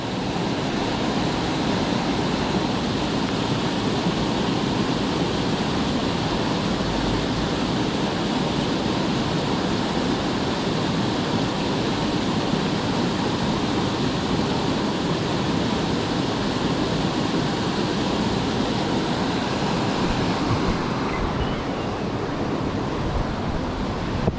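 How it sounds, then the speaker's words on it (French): A small waterfall cascading at a park pond gives a continuous loud, close white-noise rush of falling water, steady and unbroken throughout with no voices. "Regardez-moi cette petite cascade là."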